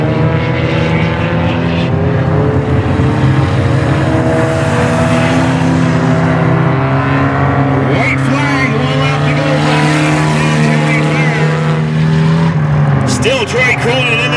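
Ministock race cars roar continuously as they come off turn four onto the front straightaway, engines droning loud and layered with shifting pitch as cars pass, while a commentator talks over the noise.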